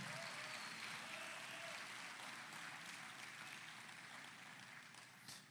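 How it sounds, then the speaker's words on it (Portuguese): A church congregation applauds the pastor at a worship service, steady dense clapping that holds for several seconds and then slowly thins and fades toward the end. "Receba com um aplauso carinhoso o nosso querido pastor Marcos Santos"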